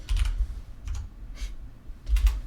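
Close, uneven typing on a computer keyboard while entering encryption setup commands, with short bursts of keystrokes separated by pauses and no voices.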